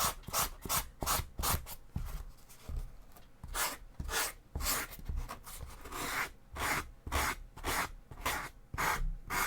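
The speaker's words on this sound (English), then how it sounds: "need to sand that. That was a terrible cutting." Rhythmic rasping strokes from sanding a cut piece for cosplay horns, each pass loud and close, repeating steadily back and forth with brief pauses midway.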